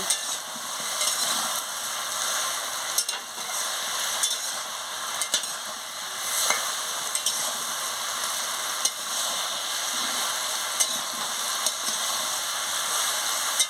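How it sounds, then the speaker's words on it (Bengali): Chopped raw pumpkin vegetables sautéing in a hot pan for a pumpkin and prawn curry, with a steady, close frying sizzle and intermittent scraping stirs of a spatula throughout, no voices. "খুলে নিয়ে ভালো করে আনাজটাকে কষিয়ে নিচ্ছি।"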